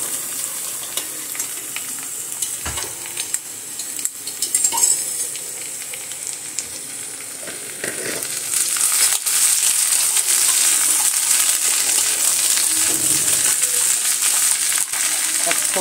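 Capsicum, green chillies and spices sizzle steadily in a hot pan, a continuous frying hiss that grows louder partway through, with occasional stirring clinks and no talking.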